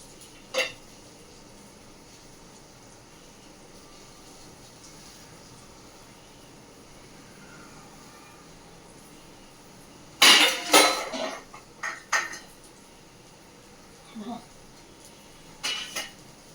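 A lid is set onto a cooking pot on a home stove with a few clinking metal knocks. A faint background hum comes first, then a cluster of sharp clatters, and softer taps follow.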